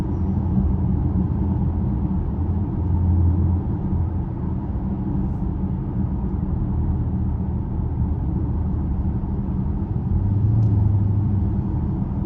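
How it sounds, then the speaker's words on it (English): A car with automatic transmission pulls hard in sports mode, its engine giving a steady, loud, close rumble that hardly changes, and no one speaks. "Again, this sports mode with the transmission on auto, man, she picking up real quick."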